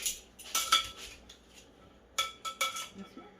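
Metal utensil scrapes and clanks against a pot while garlic is mixed into oxtails, several sharp clattering bursts with quiet pauses between them.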